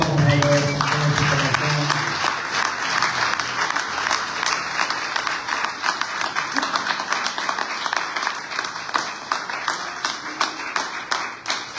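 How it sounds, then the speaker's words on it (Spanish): A church congregation applauds during a Sunday service. The sustained clapping is fairly loud at first, with a brief voice near the start, then slowly thins into scattered, uneven claps. "Dale un aplauso al Señor, por favor."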